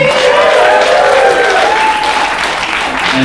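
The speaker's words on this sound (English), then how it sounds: "Can we have a round of applause for Kirsty, ladies and gentlemen?" Loud, sustained applause from a comedy roast battle audience at a grand final, dense clapping with cheers and whoops rising over it, close and continuous throughout.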